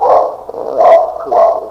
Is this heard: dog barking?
yes